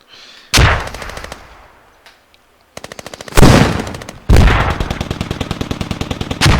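Intense gunfire from the video game Squad: loud, rapid machine-gun bursts and sharp shots in several separate volleys, with a heavy impact blast partway through, all close and dominant with no talking.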